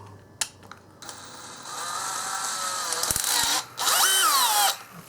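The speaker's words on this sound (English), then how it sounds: "Silver and Deming drill bits are just short drill bits that have 1/2-inch shanks, but much larger drilling sizes." A power drill turning a Silver and Deming bit, a short large-diameter bit with a 1/2-inch shank, whirs in several close bursts that rise in pitch, with ratcheting clicks and a loud sustained run near the end.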